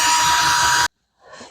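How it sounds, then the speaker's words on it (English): A power drill bores a hole into a wall stud, a loud, steady high-pitched whine that cuts off abruptly, followed by a short, fainter burst of drilling after a brief silence. "I'm going to use it to drill the hole because I have found a stud and that is what I will drill it into."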